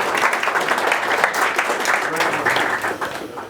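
A meetup audience at a London DevOps gathering applauding their organiser Alex, a dense, loud burst of clapping from many hands that holds steady for a few seconds before starting to fade.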